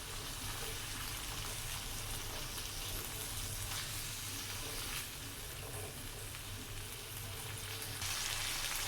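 Boiled chickpeas are stirred and cooked in a hot pan for spicy chana chaat, giving a dense, continuous sizzle up close, with soft scraping from mixing and a slight rise in intensity near the end.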